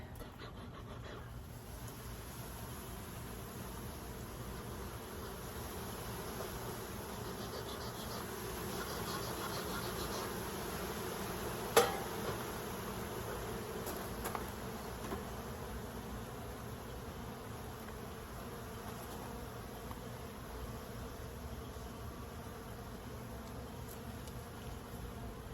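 Honeybees buzz around an opened hive in a front yard with a steady, faint, continuous drone. A single soft knock stands out near the middle.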